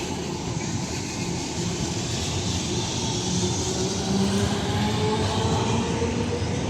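An Alexandria Raml tram passes along a city street, a steady, loud rumble of wheels and traffic noise that holds evenly for several seconds without voices.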